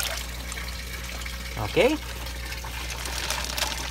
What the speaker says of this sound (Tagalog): bago natin siya i-release mga kabukid is i-introduce muna natin yung bagong tubig